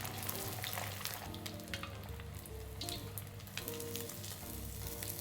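Sweet and sour mandarin fish, scored squirrel-style, deep-frying in hot oil with a dense, steady sizzle and crackle, soft and close, with no voices.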